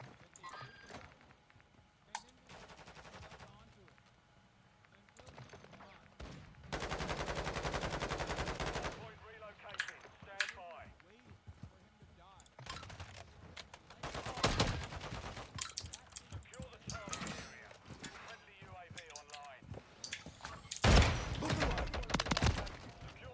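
Bursts of gunfire from the Call of Duty Modern Warfare 3 video game, loud volleys and scattered single shots in a busy game mix, with a long sustained burst near the middle and more firing toward the end.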